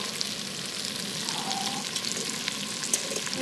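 Potatoes and meat fry in a pan outdoors by a riverbank, a steady soft sizzle with faint stirring scrapes running throughout, fairly quiet and unbroken.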